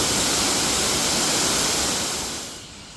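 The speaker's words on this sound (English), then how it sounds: "the sound of the waterfall is so soothing and so calming" Large waterfall at Bird Paradise in Singapore, a loud, dense, continuous rush of falling water filling the air, easing off slightly at the end.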